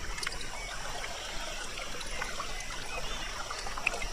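Fast-flowing mountain stream water rushing steadily over rocks at Table Mountain National Park, a continuous near trickle and splash with no breaks.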